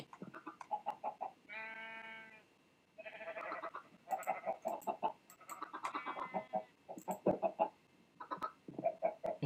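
Minecraft chickens clucking in quick repeated bursts, with a few longer drawn-out calls in between, loud and close, with no talking over them.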